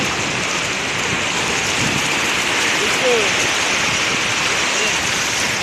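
At Cox's Bazar beach, seawater pounds against a barrier as an unbroken, loud rushing wash, with a voice faintly audible beneath it.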